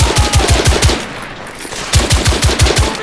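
Machine gun fire in the video game The Order: 1886, loud close bursts of rapid shots in two volleys separated by a brief lull.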